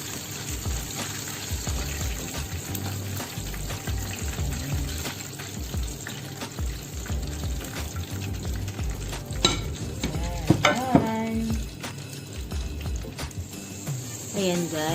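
Chicken pieces frying in hot oil for a homemade Jollibee-style Chickenjoy batch, with a steady loud sizzle throughout and occasional scraping and clinking of a utensil near the end.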